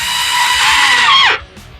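Close, loud whir of a power drill boring pilot holes into a wooden subwoofer enclosure, running steadily for over a second before winding down abruptly.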